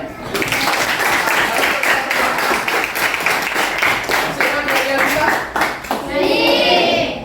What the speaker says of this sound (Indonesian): Bisa Pak Guru minta tepuk tangan ya?